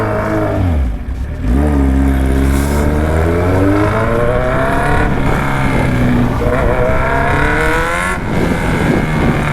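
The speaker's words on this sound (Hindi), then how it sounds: "पीछे वाला टायर भी स्लिप मारा।" A vehicle with a very loud aftermarket exhaust revs hard close by, its engine note rising and falling in repeated sweeps while the rear tyre slips, all loud and continuous with no talking.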